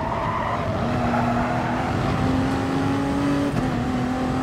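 A race car in the Gran Turismo Sport video game holds a steady engine drone under continuous tire squeal and skidding through a race. It plays loud and unbroken, with no voice over it.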